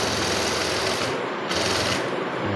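Sewing machine stitching along the bottom hem of a petticoat, a steady continuous mechanical whirr that runs loud and unbroken with no voices.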